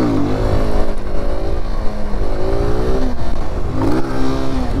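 A motorcycle engine revs loud and close during a wheelie in a stunt parking lot, holding a steady drone with rising and falling pitch and sharp throttle blips near the start and end.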